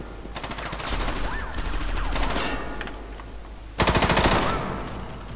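Rapid machine-gun fire from Front Mission: Evolved, a mech combat video game, plays in long loud continuous bursts. A short pause splits them before a sharper burst resumes, with a voice briefly audible underneath.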